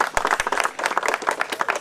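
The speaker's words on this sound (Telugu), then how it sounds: "అందరి తరఫున ఒకసారి చప్పట్లతో కృతజ్ఞతలు" An audience gives a burst of quick, close clapping at a gathering around a friendly match between a Singareni officers' team and a press club team, a dense, steady applause lasting under two seconds.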